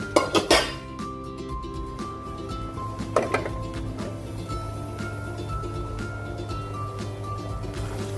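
Food being moved into another cooking pot in a home kitchen, with a few sharp metal clanks and scrapes of pot and utensil near the start and again around three seconds, over a steady low stove hum.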